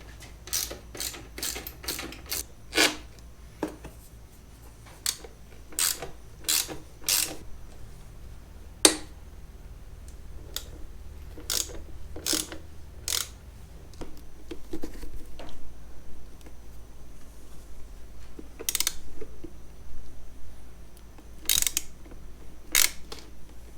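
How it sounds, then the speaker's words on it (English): A 6mm hex key loosens exhaust bolts on a Suzuki DRZ400SM, producing a series of close, crisp ratchety clicks and metallic ticks at irregular intervals over a quiet background. "I'm going to go ahead and take the exhaust loose so that I can pivot the subframe"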